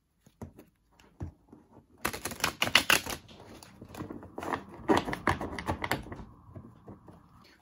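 Tarot cards being shuffled, with a few soft isolated taps first and then a flurry of riffling, slapping card sounds in the middle, close but quiet, fading to a faint hum at the end.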